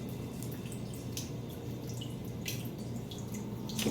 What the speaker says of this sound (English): You can hear, like, the shower water leaking.